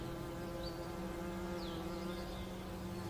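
Honeybees buzzing as they collect nectar from flowers, a steady, close drone that runs unbroken from start to finish with no voices.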